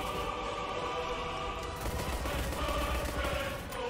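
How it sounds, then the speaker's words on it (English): Rapid gunfire from the online egg-themed shooter game Shell Shockers, a dense continuous barrage of shots over game noise throughout. "his pistol's still shooting"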